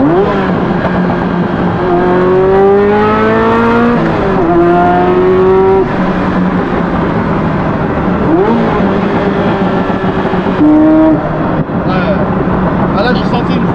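Ferrari F40 engine revving hard as it accelerates, loud rising pitch sweeps repeatedly climbing and dropping between gear changes, heard from inside the car with tire squeal and a voice over the roar.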